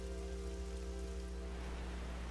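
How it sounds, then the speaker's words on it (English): Steady rain patters on surfaces in the survival video game 7 Days to Die, a soft, even hiss with a low hum beneath it that goes on without a break and has no voices. "It's still raining."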